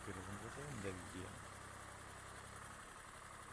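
Swaraj 855 tractor at work in mud inside a coconut grove, clearing banana plants, its diesel engine holding a steady low drone throughout while a voice talks over the first second.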